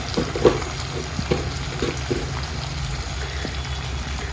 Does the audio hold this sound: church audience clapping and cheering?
no